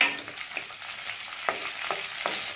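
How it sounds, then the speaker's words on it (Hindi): Almonds, raisins and coconut sauté gently in oil in a pan, a steady soft sizzle broken by repeated scraping stirs. "और अब मैं इसके अंदर ये बादाम, किशमिश और ये नारियल, इनको डाल के लाइट सा बस सौते करूँगी।"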